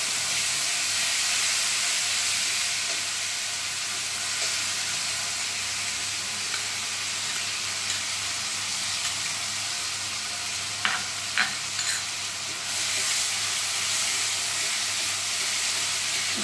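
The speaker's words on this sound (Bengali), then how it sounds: "এবার আমি কড়াইতে ফোড়নের মধ্যে এই পেঁয়াজ বাটাটা দিয়ে দিচ্ছি" Boiled, ground onion paste hits hot tempering oil in a kadai while cooking katla fish rezala, giving a steady close hiss and sizzle, with a few stirring clicks from the spoon near the end.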